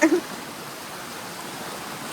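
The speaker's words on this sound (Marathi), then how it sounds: "पाण्याचा प्रेशर पण एकदम मस्त आहे" Strong water gushes in a steady, dense broadband rush that holds level throughout, with a couple of brief louder bursts at the start.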